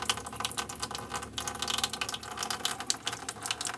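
A water pump priming as it starts drawing water through its line, giving a steady close-up gurgling and trickling flow with faint mechanical clicking, continuous for several seconds.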